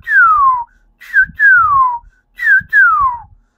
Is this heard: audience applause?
no